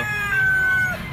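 A young stag rooster gives one short, close crow that rises then trails off, alone and clear.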